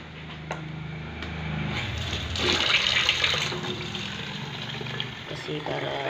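Water is poured into a pan of chicken adobo simmering in vinegar and soy sauce, a brief splashing rush in the middle over a low background hum, with a voice talking around it.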